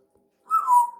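A pet parrot gives a single rising-then-steady whistle, clear and close, lasting under a second with no talk over it.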